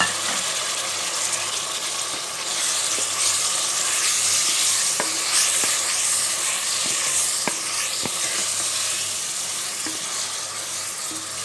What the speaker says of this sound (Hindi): अब हमने इसे 2-3 मिनट तक हमने इसको इसी तरह ही भूनना है, खाली लहसुन अदरक के पेस्ट में, ज़ीरे में और प्याज में।